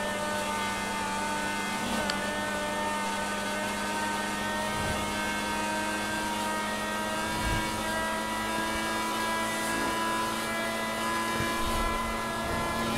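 A car engine drones steadily during a police chase, with a constant tonal hum that stays close and fairly loud for the whole stretch, and no clear revving peaks.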